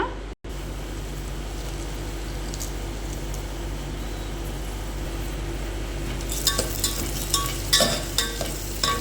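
Whole spices frying in oil in a pan, bay leaf, cloves, pepper and cumin: a steady soft sizzle, with sharper clinks of a stirring utensil against the pan toward the end.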